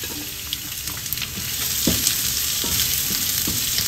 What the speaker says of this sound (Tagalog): Sabay na po natin agad ang bawang at sibuyas.